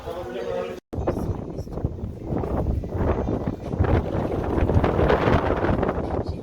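Wind gusts buffet the microphone in low rumbling bursts near a hotel in the Algarve, Portugal, with people talking underneath and a brief dropout near the start.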